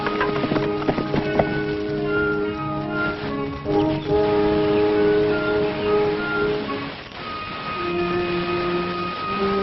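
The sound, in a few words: horses riding through the forest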